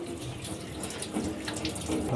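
Tap water runs steadily into a sink while a mud crab is washed for a Jaffna-style crab roast, a soft continuous splashing with small bumps of handling, close by and fairly quiet.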